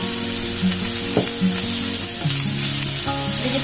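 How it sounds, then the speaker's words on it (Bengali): Potatoes and carrots fry in a pan for a children's tiffin snack, giving a steady close sizzle with occasional clinks and scrapes of a utensil and a faint background hum. "এটাকে একটু ভাজা লাগা করবো আলু আর গাজরটাকে"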